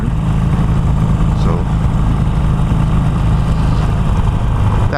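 Harley-Davidson Iron 883 motorcycle running with a modified exhaust drilled with 1/2 inch holes, a loud continuous close-up engine rumble and wind roar throughout, with a rider speaking briefly over it.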